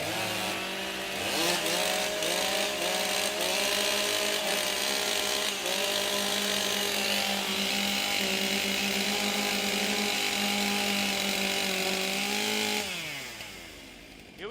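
Several chainsaws at a STIHL Timbersports competition in Australia idle and rev together in a loud, continuous wavering drone, with pitch shifts as throttles open and close, before cutting off abruptly near the end.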